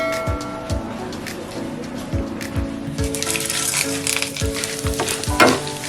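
Tempering seeds and chana dal crackle and sizzle in hot oil for a beetroot fry, with a steady close frying hiss and regular low knocks of stirring.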